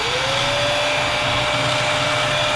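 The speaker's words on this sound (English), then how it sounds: "The vacuum comes on." A vacuum cleaner with a dust collection attachment runs loud and close, a constant roaring whine with a rising pitched tone as it spins up, and no talking.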